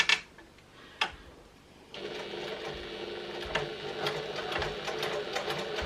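Domestic sewing machine running steadily for several seconds, stitching a few quick back stitches into a small clutch wallet, a close, even mechanical whir with faint ticking, preceded by a couple of sharp clicks.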